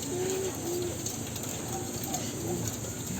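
An alimokon dove chick cooing: soft, short coos repeated a few times against a constant background hiss and hum, faint and at moderate distance.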